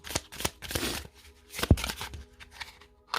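Tarot cards are shuffled and drawn by hand in short, uneven bursts of riffling and soft slaps, with quiet gaps between them and a sharp snap near the middle, close and fairly soft.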